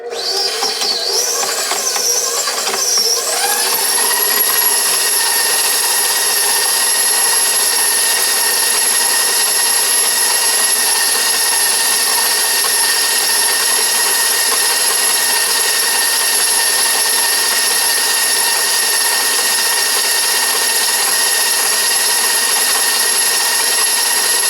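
An electric mixer creams room-temperature butter for thumbprint cookies, spinning up over the first seconds and then whirring in a loud, steady, close-up drone with a high tonal whine throughout.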